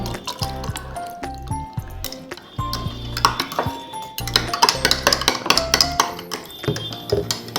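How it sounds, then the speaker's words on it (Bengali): Water poured and mixed into a sherbet, with splashing liquid, clinks of a spoon against a glass or pot, and busy drips and knocks, close up and without talk. "এবার আমি জল মিশাবো"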